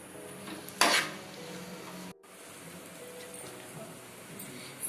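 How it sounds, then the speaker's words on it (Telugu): A utensil scrapes and clanks against a pan while an egg fry mixture of boiled eggs and spices is stirred, one sharp metallic clatter early on over a quiet background, then soft scraping. "ఇట్లా మనం మిక్స్ చేసేస్తున్నాం."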